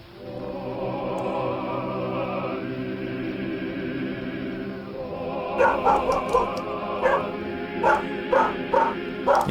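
In the video game Voices of the Void, a dog gives several quick barks in the second half, sharp bursts over a steady droning ambient bed.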